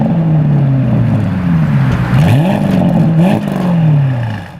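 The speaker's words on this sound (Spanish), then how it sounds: "también podemos escuchar el sonido del escape, que suena un poco diferente al de un wagon normal" Exhaust note of a Porsche wagon, a loud close-up engine drone that dips and rises with short revs before settling, with no one speaking over it.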